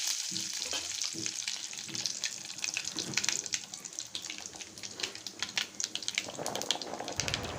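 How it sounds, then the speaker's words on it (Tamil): Fenugreek, fennel, cumin and mustard seeds sizzle and crackle in hot sesame oil for a fish curry, with a steady frying hiss and close, sharp popping throughout. "வெந்தயம், சோம்பு, சீரகம், கடுகுளுந்து இதெல்லாம் எடுத்து நல்லெண்ணெய் காஞ்சோடனே அதில் ஆட் பண்ணுங்கள்."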